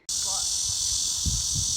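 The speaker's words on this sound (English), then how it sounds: "This is the cicada. We can hear them." A steady, high buzzing drone of cicadas in trees in South Korea fills the air continuously, with faint rustling and a brief low thump underneath.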